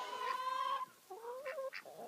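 Backyard Delaware hens cluck and give drawn-out tonal calls, a long nasal note followed by a few shorter rising clucks, heard close up with no talking.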